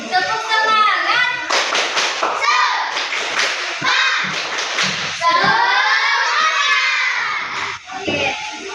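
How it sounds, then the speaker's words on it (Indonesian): A fifth-grade class doing a rhythmic spirit clap in a classroom: bursts of group clapping and thumping on desks mixed with children shouting and chanting, loud and close, with an adult voice leading. "Tepuk semangat. Satu kali lagi, lebih semangat lagi."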